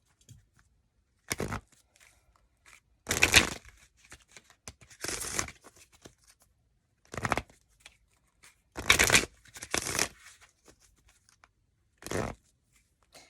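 Romance Angels oracle cards are shuffled in six separate quick riffling bursts, crisp and close, with near silence between them.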